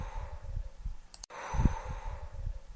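Slow, deep breathing in and out by a patient during a doctor's examination, soft airy inhales and exhales close by with a brief pause between breaths.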